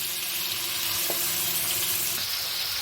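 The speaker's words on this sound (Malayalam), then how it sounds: "ഇനി നമുക്ക് അതേ എണ്ണയിൽ തന്നെ മസാല വരട്ടി വെച്ചിരിക്കുന്ന ചിക്കൻ ചെറുതായി ഒന്ന് വറുത്തെടുക്കണം" Masala-coated chicken shallow frying in oil for a kappa biryani, a steady close hiss and sizzle running evenly through the whole stretch with no voice.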